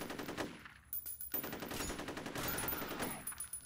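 Rapid automatic gunfire in the shooter game F.E.A.R., dense fast bursts that run almost continuously with brief gaps, loud and close, with no talking.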